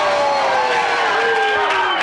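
An improv comedy audience at a dating-game show cheers for a contestant, a loud, continuous crowd roar with whoops and shouting that fills the whole moment.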